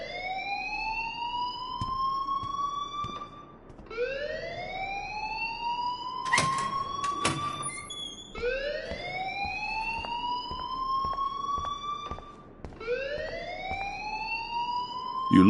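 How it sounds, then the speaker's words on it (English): A school fire alarm in the Life is Strange video game wails in four long rising sweeps, each about four seconds, loud and continuous with occasional clicks between, no talking. "please turn off that alarm since that's your job"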